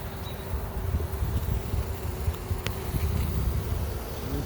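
Honeybees hum steadily around an open beehive in storm-damaged surroundings, a dense continuous buzz with individual bees zipping close by, no talking.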